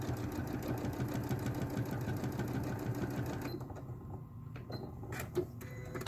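A sewing machine stitches a quarter-inch seam along the edge of a fabric runner, its rapid even needle rhythm humming close, then slowing and stopping, with a few light clicks of fabric handling afterward.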